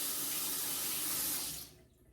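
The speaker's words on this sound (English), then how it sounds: "Let's go ahead and rinse it off really quickly." A milk frother is rinsed under a running kitchen tap: a steady, close, loud rush of water that cuts off near the end, with no talking.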